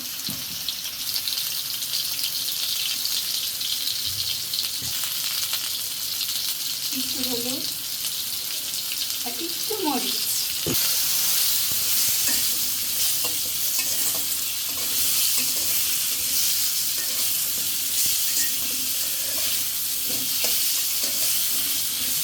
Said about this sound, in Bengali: আলুগুলো একটু লাল লাল করে ভেজে নেবো